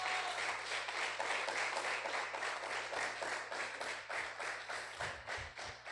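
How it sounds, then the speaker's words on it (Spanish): A church congregation claps together during a Spanish-language service, producing quiet, dense, steadily pulsing applause with a few louder thumps near the end and no speech. "dale una ofrenda de palmas a Jesús."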